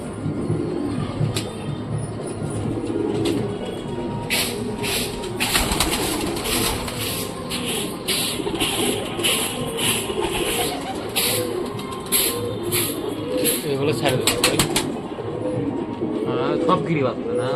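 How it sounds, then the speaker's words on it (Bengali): Giribaz pigeons coo in repeated rolling calls at a loft, fairly close, alongside sharp rhythmic clicking bursts and background chatter from people nearby. "তো কাকার এখানে দেখতে পাচ্ছ কত সুন্দর কবুতর।"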